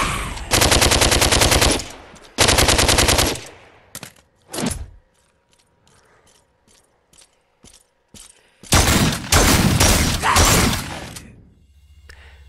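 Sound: gunfire in a PSVR wave shooter video game

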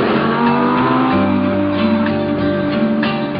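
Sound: Lamborghini car driving in the Alps

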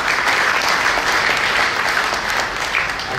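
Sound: audience applause

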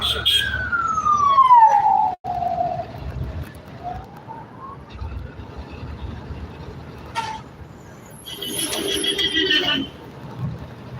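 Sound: ambulance siren

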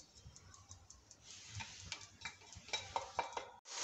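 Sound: stirring chicken with tomatoes and spices in a pot

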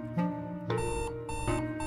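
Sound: alarm clock ringing in Florence video game

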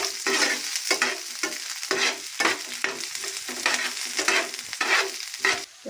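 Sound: stir-frying onions in an iron wok for hakka noodles

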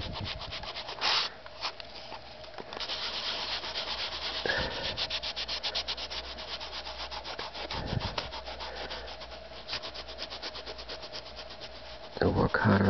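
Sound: rubbing compound polishing roof of Lionel 1630 model train car

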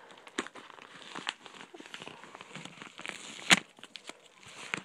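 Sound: opening a package wrapped in duct tape

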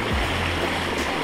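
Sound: waterfall

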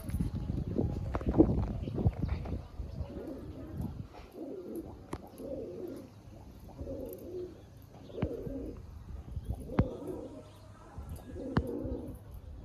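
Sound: pigeons cooing

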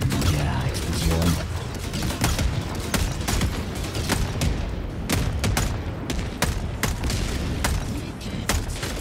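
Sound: explosion and gunfire in the video game Helldivers 2

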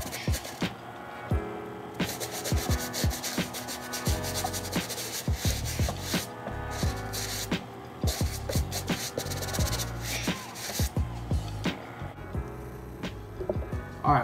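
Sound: brush scrubbing a Converse shoe

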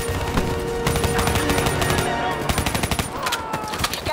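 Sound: gunfire in Call of Duty: Black Ops 3 video game

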